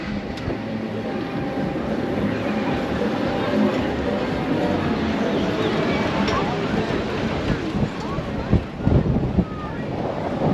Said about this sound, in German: Bisschen windig, aber okay.